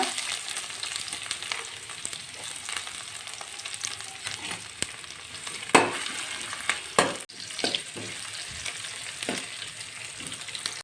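Chopped garlic and a medium onion frying in oil with cumin seeds in a pan for homemade noodles, a close, steady crackling sizzle with a few sharper pops and spatula knocks, no voices.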